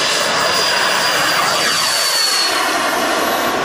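Dolphin RC model sport jet with a turbine engine in flight at a jet model show, a loud continuous roaring whine and hiss that shifts in pitch as it passes, with no voices.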